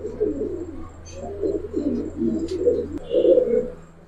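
Giribaz and coloured pigeons coo in repeated low, throaty rolls, close and fairly loud, with soft rustles and a steady low hum beneath.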